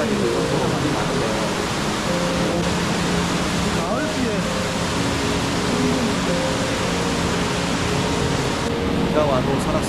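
A dense, steady hiss of heavy rain on a mountain trail in Seoraksan fills the whole stretch, with a person speaking faintly beneath it.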